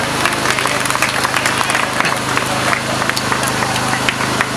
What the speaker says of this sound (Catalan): un fort aplaudiment també